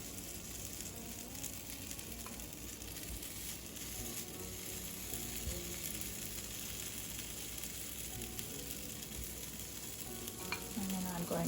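Egg waffle dough cooks in a preheated waffle iron with a soft, steady sizzle and faint crackle, quiet and close, with a few small clicks near the end.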